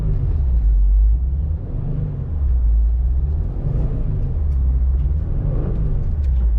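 A car engine is held under throttle while driving during stunt-driving practice on an open surface, producing a close, loud, steady low rumble that swells slightly without reaching high revs.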